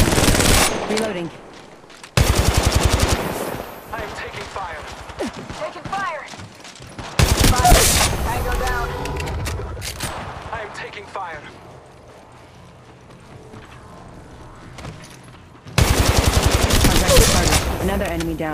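Rapid bursts of automatic gunfire from the Apex Legends battle royale, including shotgun blasts, come in loud clustered volleys separated by quieter stretches of game sound, with a voice speaking in between.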